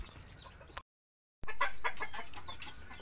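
Backyard chickens cluck in short, repeated bursts at close range, with a brief dead-silent gap early on before the clucking picks up again.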